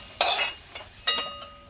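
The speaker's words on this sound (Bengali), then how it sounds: "আলুগুলো ভাজা হয়ে গেছে, আলুগুলো আমি এবার তুলে নিচ্ছি" Fried potato pieces scooped out of a hot cooking pan, giving two distinct metallic scrape-and-clink strokes with faint stirring noises between them, close and fairly quiet with no talking.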